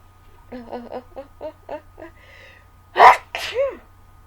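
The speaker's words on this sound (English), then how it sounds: "I assure you that is a dust sneeze." A single close sneeze from dust, with a short gasping build-up and then a sharp loud burst that trails off in a brief vocal tail; a series of soft voiced sounds comes before it.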